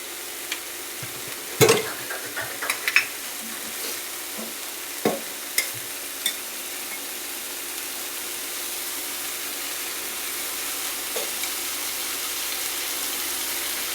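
Egg bhurji frying in oil in a pan, with a steady soft sizzle throughout and a few sharp stirring clatters near the start; no voices.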